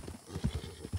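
A horse's hooves clop in a quick, uneven rhythm in a Yellowstone roleplay video game, close and thudding, with a whinny-like snort among the steps.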